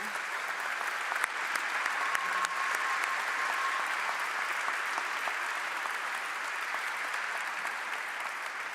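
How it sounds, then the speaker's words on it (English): A steady, full round of audience applause fills a ceremony hall at the duPont-Columbia Awards, continuous and fairly loud throughout with brief murmurs beneath. "If everyone can clap for them."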